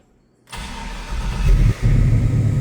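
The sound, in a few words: 1965 Chevrolet C10 electric fuel pump and engine starting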